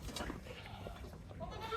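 A goat on a farm gives a few short, faint bleats over a soft, noisy background during kidding season.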